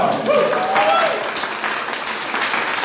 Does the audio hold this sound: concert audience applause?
yes